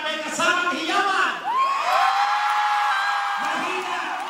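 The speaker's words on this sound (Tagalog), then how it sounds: "gusto ko silang marinig ng palakpakan na may kasamang hiyawan" A concert crowd cheering and whooping loudly with a rising shout, sustained high-pitched yells carrying through, clapping barely distinct beneath the voices.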